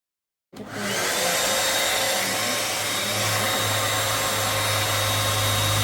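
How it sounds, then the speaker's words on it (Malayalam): A handheld hair dryer switches on and runs, giving a steady loud whooshing roar with a constant low motor hum, close up and unbroken, with no talking. "ഈ ഒരു ഡ്രയർ വെച്ചിട്ടാണ് നമ്മൾ മുടി ഉണക്കാൻ വേണ്ടിയിട്ട് ഉപയോഗിക്കുന്നത്"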